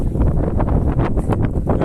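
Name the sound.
wind blowing by the sea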